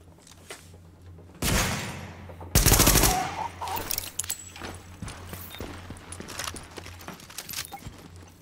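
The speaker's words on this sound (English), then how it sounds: "You keep trying to hit me with that shotgun." An enemy shotgun fires in The Division during a Garment District side mission: two loud close blasts about a second apart, followed by quieter scattered gunfire and clatter.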